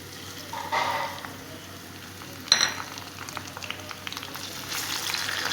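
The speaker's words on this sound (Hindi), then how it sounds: "अब हम इसमें टमाटर डालेंगे" Tomatoes tip into browned onions frying in a pan, bringing a soft sizzle, a sharp clatter midway and some stirring scrapes, fairly quiet and with no talk.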